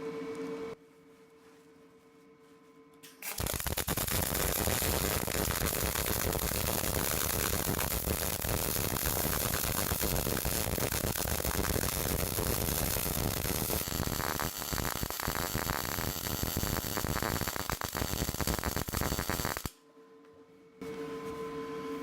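A Power Mig 210 MP MIG welder lays a weld pass, giving a loud, continuous crackling hiss that runs for about sixteen seconds between quieter stretches, with no talk.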